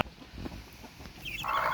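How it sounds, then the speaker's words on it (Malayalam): Native country hen with her chicks clucking outdoors on a farm, soft low clucks scattered through the clip, then higher chick peeping rising near the end, with no talking. "ഇതാണ് തനി നാടൻ കോഴിയും കുഞ്ഞുങ്ങളും"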